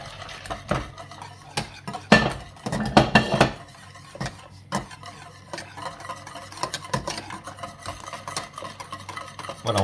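A whisk or spoon stirs a milk-based sauce thickening in a pan for salmon-leek-parmesan lasagne, scraping and clinking against the metal in quick irregular bursts, close and fairly loud with no talk.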